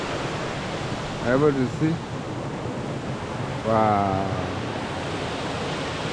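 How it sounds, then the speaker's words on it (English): A waterfall on a Migori to Kuria route in Kenya gives a steady rushing roar that fills the background, while someone speaks briefly over it twice. "out there is a waterfall."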